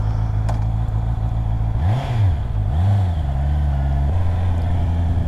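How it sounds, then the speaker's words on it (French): A Honda CB650R four-cylinder engine runs loud and close, rising and falling through two quick revs over a steady idle. "Oh, le 4 cylindres."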